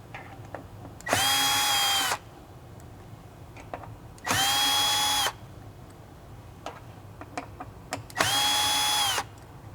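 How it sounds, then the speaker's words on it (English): A power drill fitted with a 1/4 inch nut driver backs out screws holding a bracket on a pinball machine, three separate whirring bursts of about a second each, close and loud, with faint clicks between them. "a drill with a 1/4 inch nut driver to remove the 4 screws that hold on the original bracket in place"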